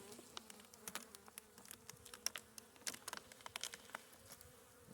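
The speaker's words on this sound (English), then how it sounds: "Very healthy bees, healthy hive." Honeybees buzz steadily at close range in an open hive in early spring, with many individual bees droning past in quick passes over a low hum. No voices are heard.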